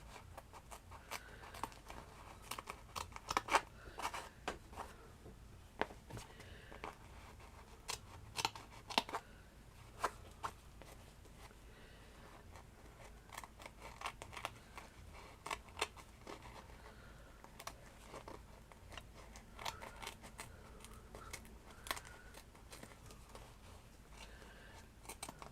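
Scissors snipping through trimmed book pages for a shabby chic handmade book: a long quiet series of irregular crisp cuts and paper rustles, close and soft, with no voices.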